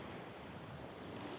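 Strong sea waves roll and wash against the shore at night at Port Dickson during crab fishing, a continuous broadband surf roar mixed with gusting wind buffeting the microphone, no voices.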